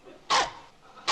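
A family's mutt gives two short, sharp barks close by, separated by a brief pause.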